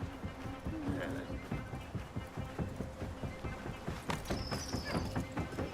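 Horses gallop in the video game Assassin's Creed Mirage. Rapid, rhythmic hoofbeats continue steadily with a faint whinny near the start, under game ambience and a brief sharp sound near the end.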